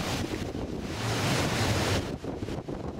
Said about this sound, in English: Huge waves hitting the wall, causing flooding to the promenade and roads.